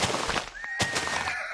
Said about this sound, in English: Oh, horsey, horsey, where are you?